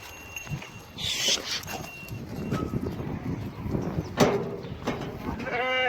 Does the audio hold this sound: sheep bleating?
yes